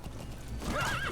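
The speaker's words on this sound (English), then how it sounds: "We can gallop, we can also hide on our horse." A horse in Metal Gear Solid V: The Phantom Pain gallops with steady hoofbeats, then lets out a loud rising neigh partway through, close and clear over game ambience.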